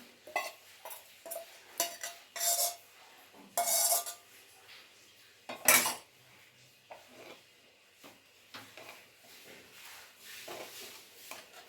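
Bisi bele bath powder is stirred into a pot with a metal spoon, making irregular clinks and scrapes against the pot that rise and fall over the quiet background without any talking.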